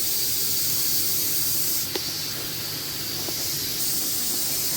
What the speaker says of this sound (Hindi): हमने पैन में ऑयल डाल दिया है और हम सबसे पहले इसमें डाल देंगे प्याज